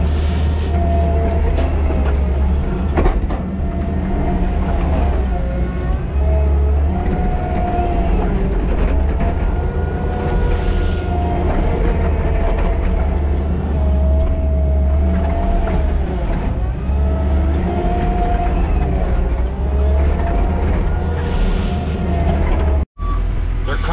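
Several heavy trucks run at a construction site for a modular home foundation, a continuous loud low engine rumble with droning, shifting tones, with occasional talk over it.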